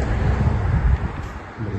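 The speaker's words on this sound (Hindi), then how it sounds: "हवा चल रही है" Outdoor wind on a sunny morning buffets the microphone in low, uneven rumbling gusts that swell and ease over a couple of seconds, close and fairly loud with no voices.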